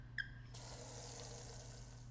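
Water poured from a kettle in the game Spirit Hunter: NG: a small click, then a soft, steady stream of running water lasting about two seconds, faint and alone.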